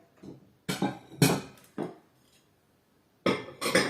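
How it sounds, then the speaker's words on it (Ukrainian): Several bright clinks and clatters of dishes being handled and stacked, in irregular bursts separated by short quiet gaps, close by. "вирішила поскладати посуд, який вчора помила."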